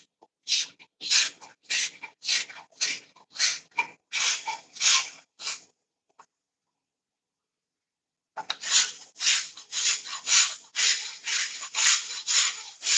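Repeated rasping strokes of a scraper's rounded edge drawn along a wooden axe handle, close and steady in a quick rhythm, pausing silent for about two seconds before the scraping resumes.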